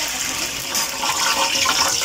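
A drop of water sizzles and crackles in hot frying oil, a steady, fairly loud hiss that lasts about two seconds with no talking.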